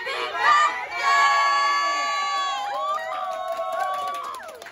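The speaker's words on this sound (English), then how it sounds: "let's get a loud happy birthday, followed by a round of applause at the count of 3" Party crowd of adults and children singing happy birthday together in one loud, sustained sung chorus, with cheering swelling toward the end.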